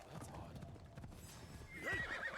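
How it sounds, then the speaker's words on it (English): Horse hooves clip-clop at a gallop in a samurai-era video game, a steady near rhythm with a whinny toward the end, under someone talking. "Why did I ride my stupid horse?"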